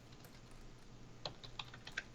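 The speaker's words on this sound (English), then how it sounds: "Nothing in a podcast quite like typing." Typing on a computer keyboard during a podcast recording gives a quiet scatter of irregular key clicks with a few sharper taps near the end, close but faint, with no voices over it.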